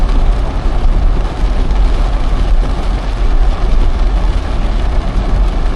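Dense, steady rain hisses loudly, with a low rumble underneath, heard from inside a car.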